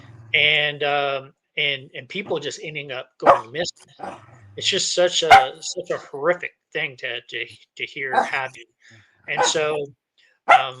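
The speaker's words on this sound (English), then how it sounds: "sorry about my dog in the background" A dog barks now and then in the background while a person keeps talking over it, the barks partly buried under the steady speech.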